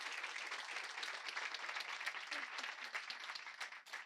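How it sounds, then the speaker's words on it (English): An indoor audience applauds the doctors at a menopause health talk, a steady, dense round of clapping from a moderately sized crowd that holds evenly for several seconds before tapering slightly. "So clap for the doctors,"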